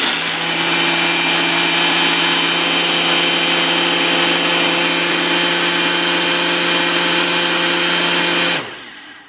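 A blender whirs steadily while blending a protein shake, a loud, continuous motor drone with a strong hum that runs unbroken for about eight and a half seconds before cutting off abruptly.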